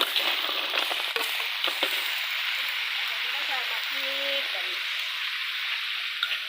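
Clams stir-fried in hot oil, a loud steady sizzle and crackle with bursts of spattering and scraping of the pan, continuous throughout.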